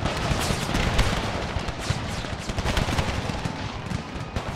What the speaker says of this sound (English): That's one of the explosive cannon. They land and then they blow up.